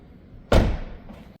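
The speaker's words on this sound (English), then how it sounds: "Let's shut this door and we'll go to the driver's side next." A 2026 BMW M4 in Sao Paolo Yellow has its door shut with a single solid, close thud, followed by a brief fading ring and quiet.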